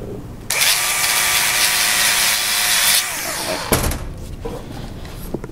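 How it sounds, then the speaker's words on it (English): A grinder bites into a spot on a steel sample, a steady high-pitched whine and grinding hiss lasting about three seconds, then spinning down with a clunk. "I'll just do a quick grind and test it for carbon."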